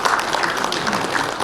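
Audience applause at a Seoul breakfast seminar as a guest is introduced, a steady dense patter of many hands filling a short stretch without pause.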